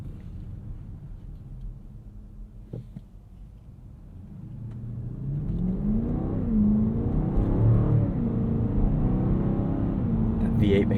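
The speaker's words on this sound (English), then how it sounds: "That V8 makes such a good noise." A 2023 BMW X7 M60i's V8 engine building from a quiet cabin hum into a deep swelling acceleration roar, heard from inside the car with voices talking over it.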